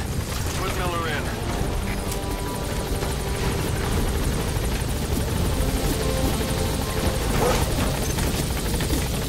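A helicopter takes off in the video game Metal Gear Solid V, a loud steady rotor thrum and engine roar filling the scene, with voices talking over it.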